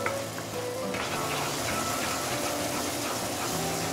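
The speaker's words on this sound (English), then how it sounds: "saute this for another couple of minutes, then it's done" Fish ingredients sautéing in oil in a pan, prepared for banana-leaf grilled fish: a steady close sizzle and crackle of frying that holds at an even level for the whole stretch, with no talk.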